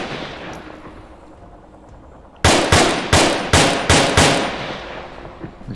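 A marksman rifle in the VR shooter Onward fires six loud, evenly spaced shots close by, each a sharp crack with a short decaying tail. The shots follow a quieter stretch of ambient noise, with no talk.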